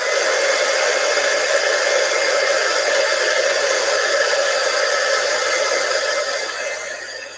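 Loud steady hot-air blow from a dryer drying an image transfer on fabric, continuous broadband whoosh that fades slightly at the end.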